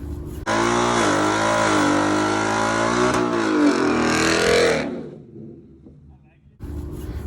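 A 5.0 car engine revs hard and loud up close for about four seconds, holding a strong droning roar before cutting off and dropping to a low idle, with the roar picking up again at the end.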